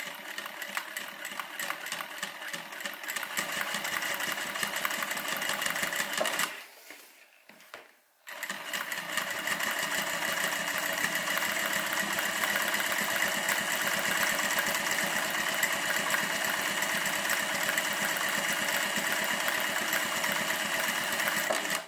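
A home sewing machine runs a long, steady whirring stitch while making a cabin bag, pauses briefly for the back stitch, then hums on continuously in reverse, close and even.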